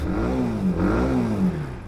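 A Zontes ZT125C 125cc motorcycle engine revs up and down twice in neutral while idling, a buzzing mid-pitched drone rising and falling close by, reaching about 7,000 rpm.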